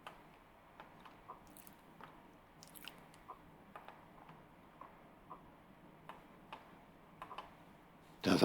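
Faint, close chewing in a quiet office area, soft wet bites and ticks repeating at an uneven rhythm over a low room hum, then a loud burst at the very end.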